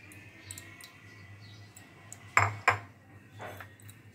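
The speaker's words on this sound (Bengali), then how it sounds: "চামচ দিয়ে একটু ডলে দেব" A spoon pressing wood apple pulp through a strainer into a bowl, with two sharp metallic clinks close by over a quiet background and faint soft scraping before and after.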